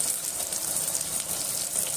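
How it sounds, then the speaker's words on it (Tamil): Chopped onions and green chillies sauté in a hot pan with a continuous, close sizzle and crackle of frying, with no voices. "வெங்காயம் முக்காப்பதம் வேக வச்சு நல்லா வதங்கிக்கணும்"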